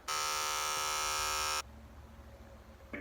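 A steady, loud electric buzz of a beard trimmer runs for about a second and a half, then cuts off, leaving quiet room noise.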